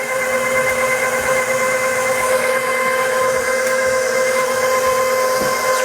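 An electric mixer beats cake batter in a bowl with eggs added one at a time, making a steady, loud whirring drone that holds without a break throughout.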